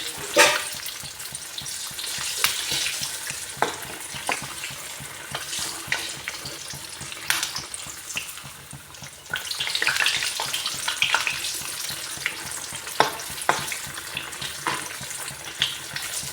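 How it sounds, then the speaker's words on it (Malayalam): Steady crackling and sizzling of snack dough deep frying in hot oil, with scattered sharp pops and bubbling throughout, no voices. "അങ്ങനെ നമുക്കിത് എല്ലാം പൊരിച്ചെടുക്കാം"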